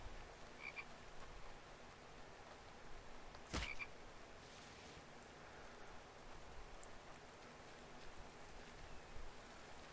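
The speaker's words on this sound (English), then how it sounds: "There's a frog." Frog croaks sound in the video game The Infected, with a sharp burst near the middle and a few soft calls scattered through a constant wash of rain-like ambience.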